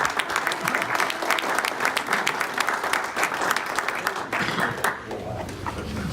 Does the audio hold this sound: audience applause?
yes